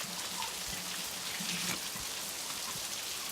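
Steady rain falls outside a house on a wet day, a continuous close patter of drops on surfaces with no voices, holding an even level throughout.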